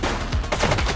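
A quick burst of gunfire from a suspect in a police-themed open-world video game, several loud, close shots packed into a second with no one talking.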